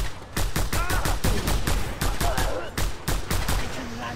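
Rapid gunfire in Just Cause 2 cracks out as a quick series of sharp shots, about a dozen bursts in four seconds in an uneven rhythm. Brief voices and game sounds come between the shots.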